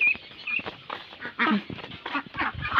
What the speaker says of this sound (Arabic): البط جعان يا وليه شايفين